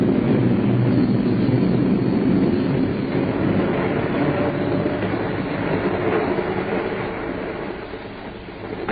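A train rumbles steadily along the rails, a continuous muffled roar heard from inside a carriage, fading slightly toward the end.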